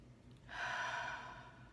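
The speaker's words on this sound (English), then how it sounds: "let's just start with a couple of nice deep breaths" A single deep breath, a soft airy exhale that rises after a brief quiet moment and slowly fades, close and gentle.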